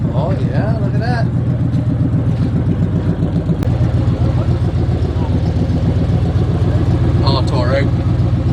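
A motorhome engine idles with a steady, loud, close rumble and light clatter throughout, with people talking over it.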